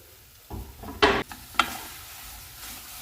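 Habanero peppers sizzling in a hot pan while being stirred, with a few short scraping bursts of a utensil over a low steady frying hiss, fairly close and without talk.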